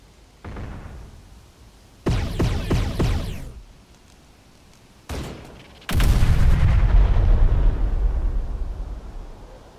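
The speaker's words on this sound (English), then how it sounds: "Enemy fire!" Enemy artillery and gunfire in the video game Terminator Dark Fate Defiance, heard as separate loud bursts and booms that end in a long, heavy rumbling barrage.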